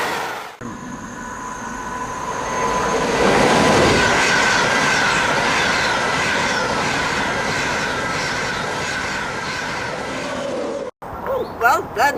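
A diesel train runs steadily on the rails, a loud continuous rumble with rhythmic clatter and occasional wheel squeal that carries on for about ten seconds before cutting out, then brief voices.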